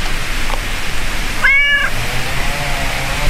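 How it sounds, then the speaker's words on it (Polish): A cat gives one clear, close meow partway through, set against a steady hiss of background noise. "Najsłynniejszy kot polskiego YouTube'a."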